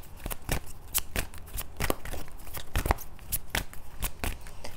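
Tarot cards are shuffled close by in a quick, steady run of crisp riffling flicks and slaps, a dozen or more bursts in a continuous rhythm with no talking.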